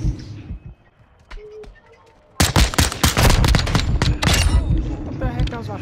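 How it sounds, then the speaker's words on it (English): Burst of rapid video-game gunshots, four or so loud cracks in quick succession after a quieter start, with voices talking over the shooting. "What the heck? That was like four shots."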